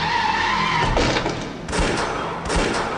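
A car skids as it strikes a man on a Berkeley street in Phantasmagoria 2, a loud screeching burst followed by sharp impacts and noisy crashes, with no speech.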